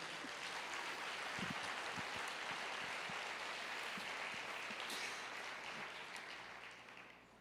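Church congregation applauding in worship, a broad steady wash of many hands clapping that holds level through the clip and tapers off at the very end, with no voices standing out.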